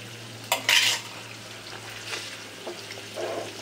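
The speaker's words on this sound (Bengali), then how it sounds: "রসুন বাটা ছিল সেইটা দিয়ে দিচ্ছি।" Garlic paste dropped into hot oil in a pan while cooking a fish curry, giving a sharp burst of sizzling followed by quieter crackles and light stirring, close and without talk.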